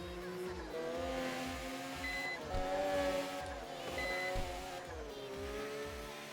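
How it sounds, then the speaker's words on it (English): Tokyo Xtreme Racer 2025 car drifting: a steady droning engine with pitch that rises and shifts through sustained tire squeal, a continuous loud mechanical roar with a repeating pulsing rhythm, no talking over it. "Drifting"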